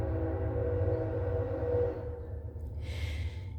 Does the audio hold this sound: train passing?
yes